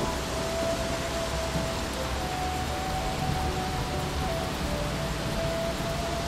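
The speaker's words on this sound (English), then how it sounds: "Well, that made it rain." Steady rain falls in the video game Xing, a constant hiss of loud, dense noise that holds evenly the whole time, with a faint tonal hum running underneath and no voices.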